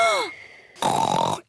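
A cartoon voice from Peppa Pig, dubbed in Hindi, imitates loud snoring: a short spoken burst followed by a rough, raspy, half-second snort that stops abruptly.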